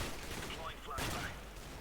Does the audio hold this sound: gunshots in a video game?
yes